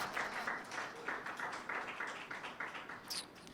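Church congregation at a Pentecost Sunday service claps together in bursts, moderately loud and sustained.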